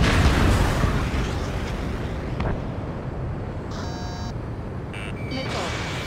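Missile fire and explosions in the combat flight game Ace Combat 7 with an Su-30M2 jet, a loud rumbling burst at the start that fades into sustained roar, followed by electronic lock-on warning tones.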